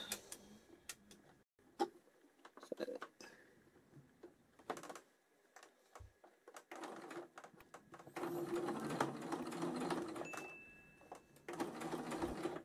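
A home sewing machine runs a gather stitch line through fabric, its quiet motor whirring in uneven stretches with ticking needle strokes and pauses, close and fairly faint.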